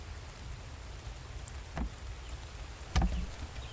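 Video-game rain patters as a soft, steady hiss heard from under shelter, with a couple of faint thuds.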